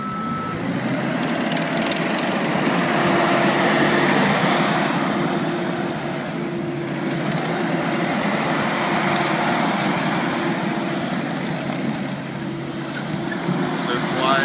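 An ASV RV-100 hydraulic tracked machine runs with a loud, steady engine drone that stays constant throughout, close by and unbroken.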